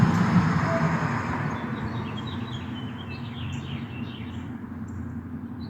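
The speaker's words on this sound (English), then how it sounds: "Who can't love the birds?" Several birds sing and chirp in the distance over a steady low rumble of traffic, calls scattered and faint throughout.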